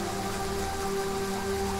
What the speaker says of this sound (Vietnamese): Trời bắt đầu đổ cơn mưa xuống như trút nước